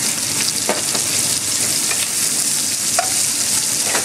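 Onion and garlic frying in olive oil, a loud, hissing sizzle that runs throughout, with a few faint stirring scrapes, heard up close.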